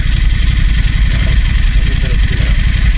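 A motorcycle engine chugs loudly and close in deep sand on an off-road outing, a steady low pulsing rumble with voices over it.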